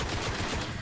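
A sniper rifle fires in the Destiny video game with a loud, dense burst of booming gunfire filling the short moment, heavy low-end rumble and no audible talk.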